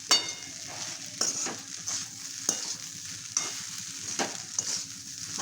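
Washed poha being mixed in a hot pan, with rhythmic spoon scrapes and taps against the metal over a low, constant sizzle, close and quiet.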